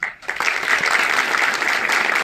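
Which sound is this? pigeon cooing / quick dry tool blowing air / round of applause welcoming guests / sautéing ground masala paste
round of applause welcoming guests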